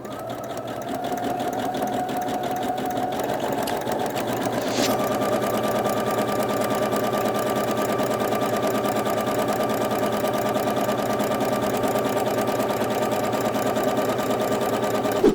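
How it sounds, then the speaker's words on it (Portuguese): A Singer Heavy Duty 6805 sewing machine runs steadily, stitching a zigzag pattern with a double needle, its fast, even mechanical whir and rhythmic needle clatter continuing unbroken and close throughout, with no talking. "Fazendo um teste aqui com a Heavy Duty usando agulha dupla com ponto zigue-zague."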